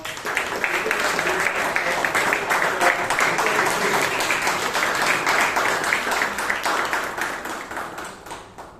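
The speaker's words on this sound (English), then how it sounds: "please give the Toastmaster of the day a huge round of applause" A meeting audience gives the Toastmaster of the day a sustained round of applause at a Bangalore Toastmasters club session, dense steady clapping that holds for several seconds and then begins to thin out near the end.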